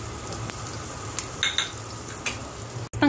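Cinnamon, Sichuan peppercorn and star anise frying in a pan, a soft steady sizzle with a few brief scrapes and clinks of stirring, close and fairly quiet.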